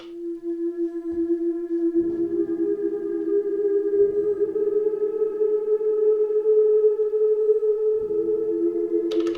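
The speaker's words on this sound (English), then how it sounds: "Let's extend the pattern so that we can keep the reverb tail." A sustained synth pattern with steady harmonics rings on through a Strymon BigSky reverb pedal, with soft low thumps entering at intervals and a smooth, lingering reverb tail beneath, no voices present.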